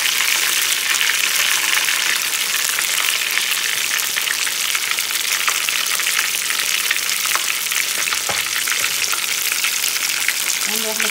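Fish fries in hot oil, a loud, dense, crackling sizzle that continues without break, close by, with a few soft stirring knocks and no talking.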